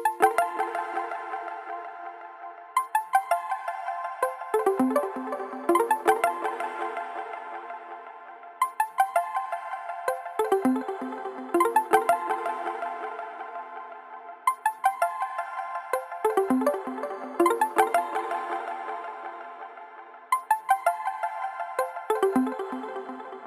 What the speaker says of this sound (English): moving on to the second synth line that's providing the melody